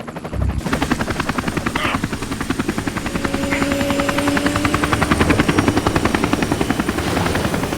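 Chamin Su's helicopter in Army of Two, a loud close rotor chop with a steady rapid thudding pulse and engine whine, starting abruptly and continuing throughout.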